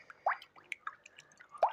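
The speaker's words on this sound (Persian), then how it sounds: "آب نبات جرقه ای" Popping candy crackling in a mouth, close and quiet, with several scattered tiny wet pops and fizzy snaps in irregular rhythm, two slightly louder bursts standing out, no talking.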